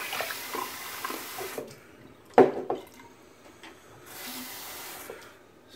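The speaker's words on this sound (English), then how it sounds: "rinse the brush." A paint brush is rinsed under running water at a sink, with a faint stream, a sharp knock partway through, then a louder burst of rushing water near the end. Nobody speaks.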